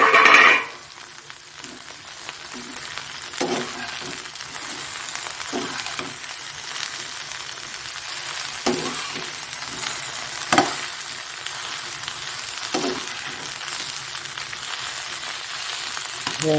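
Potato and tomato frying in a hot pan, a steady close sizzle with occasional stirring scrapes and brief spatters, loud at the start as the vegetables hit the oil, then settling into an even fry.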